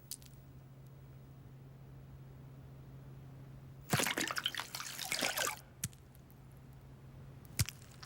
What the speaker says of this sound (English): simple, pure water will pick up any dirt and leave the spoon totally clean